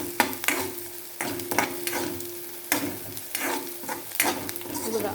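Chopped onion frying for masala bhindi (okra) in a pan, with a steady sizzle and repeated scraping stirs that come in close, sharp bursts.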